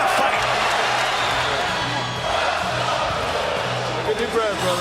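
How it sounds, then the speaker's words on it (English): A boxing arena crowd roars through a hard-fought Golovkin versus Derevyanchenko bout, a dense, steady wall of noise with commentary talking over it. "Crowd is roaring."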